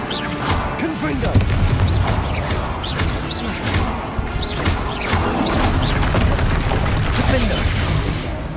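Confringo blasting spell explosions in the video game Hogwarts Legacy, repeated sharp bangs and crashes in a dense, loud battle mix over continuous spell and combat noise.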